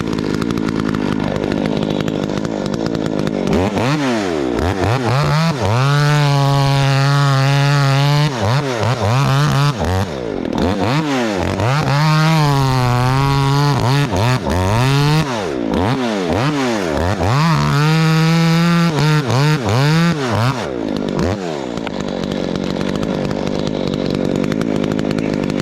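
A big-bore Husqvarna 372XP chainsaw bucks firewood, loud and close, its engine repeatedly revving up to a high whine under load through several cuts, then dropping back to idle between them.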